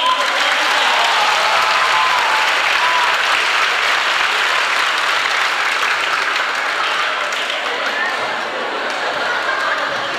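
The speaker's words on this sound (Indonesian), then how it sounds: "Ayo tepuk tangan" A crowd of children and adults claps in sustained, dense applause at a Catholic children's mission jamboree session, holding at a steady, loud level for about ten seconds before easing slightly.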